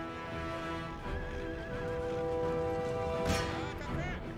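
Cavalry of a horse regiment in the Empire: Total War strategy game whinny and neigh over steady galloping hoofbeats, a dense battlefield din with overlapping horse calls.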